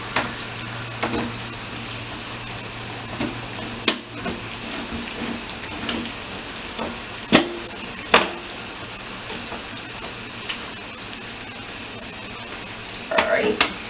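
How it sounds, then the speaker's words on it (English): Onion and bell pepper sizzle steadily in olive oil in a pan, a soft continuous frying hiss broken by a few sharp stirring clicks and knocks, with no voices. "Just frying onion"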